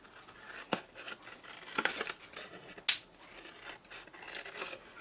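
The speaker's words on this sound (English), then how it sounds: "Then we need to cut down these here." Scissors snip through stamped card stock for a balm jar gift box, giving a few short, crisp cuts close by with faint rustling between them and no talk.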